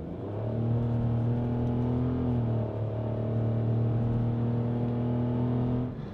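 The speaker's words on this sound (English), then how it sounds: "it makes quite a bit of a racket when you go up hills" A Toyota Aygo X with a CVT gearbox drives uphill, its small engine holding a loud, steady droning hum at a fixed pitch, briefly dipping once and then straining on, with no talk over it.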